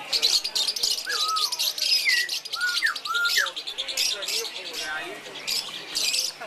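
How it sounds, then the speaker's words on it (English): Many caged birds chirp and squawk at an open-air bird and flower market in Kunming, China, a steady busy chorus of overlapping tweets and calls filling the whole stretch. "There are a lot of birds for sale here."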